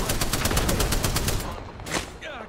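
Rapid automatic gunfire from the video game Apex Legends, a dense burst of evenly spaced loud shots lasting over a second, then a shorter single blast and a quieter tail.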